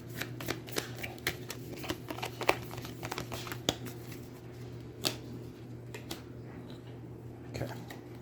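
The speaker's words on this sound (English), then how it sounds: "I'm going to shuffle to see if that's going to do 1 damage or 3." Cards from the Aeons End card game riffle and snap in quick bursts over a steady low hum, the crisp flutters repeating several times, fairly quiet and close.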